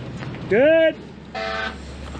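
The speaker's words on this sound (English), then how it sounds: "There goes Dawson in his egg sprayer with the air horn." Two short blasts of a loud air horn on a crop sprayer, the first bending upward in pitch, the second flatter, over a low engine rumble.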